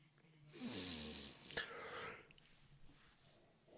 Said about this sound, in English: First yawn.